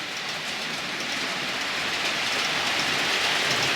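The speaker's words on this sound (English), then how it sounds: "And the container train's running now for 10 minutes, no issues whatsoever." Dapol model container train running steadily on a layout track, a continuous smooth rolling hiss of wagons that holds at an even, fairly close level without voices.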